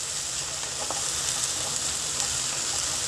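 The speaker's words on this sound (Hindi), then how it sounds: "बस एक मिनट और इसे भून लेते हैं।" Onion and green chili mixture being stir-fried in a pan for Mughlai paratha filling, a soft continuous sizzle with faint occasional stirring clicks and no talking.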